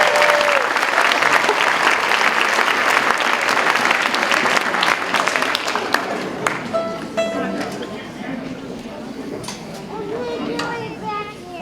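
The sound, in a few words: audience applause at elementary orchestra concert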